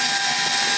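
A drill bores through a short bolt in an Enfield part, giving a steady, loud, high-pitched whine that holds without a break for under a second.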